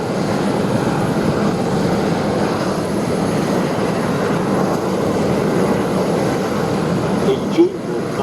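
A Miles Magister propeller trainer flies at Shuttleworth, its engine a continuous buzzing drone at moderate distance, steady with slight wavering, and a brief knock near the end.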